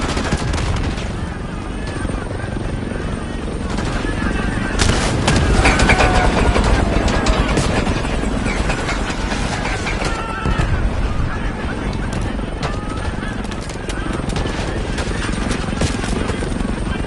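Enemy helicopters in the Black Ops 6 video game, a loud steady rotor drone with gunfire bursts and shouted voices over a dense battle mix throughout.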